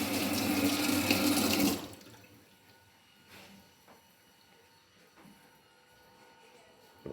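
Water gushing strongly from a tap in a two-room house, loud and steady at first, then cut off abruptly, leaving a quiet room with faint knocks and small sounds.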